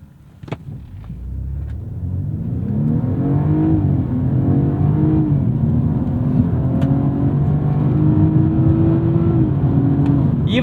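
A 2018 BMW 230i with an automatic transmission accelerating hard, its engine note climbing loud and close through rising pitch sweeps with brief dips at upshifts, a sustained strong pull with no talk.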